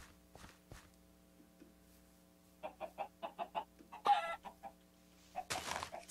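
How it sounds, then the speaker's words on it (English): Minecraft chickens cluck in a quick series of short pulses, with a louder squawk and a burst of flapping or scuffle near the end, over a faint electronic hum. "So many chickens."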